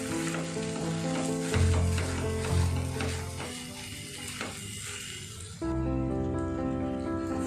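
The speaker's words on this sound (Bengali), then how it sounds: "5 মিনিট আমি এটাকে স্লো ফ্লেমে নাড়াচাড়া করে নিয়েছি।" Kochur loti (taro stolons) with ground prawn paste sizzling and being stirred in a pan over a low flame, a steady close frying hiss with scraping, continuous throughout, no talk.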